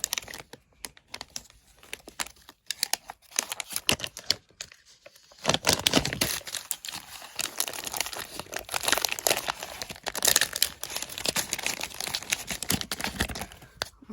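Plastic packaging of a medical syringe being torn and opened at home, giving crinkling, rustling and clicking handling sounds that grow busier and louder halfway through, close up with no talking.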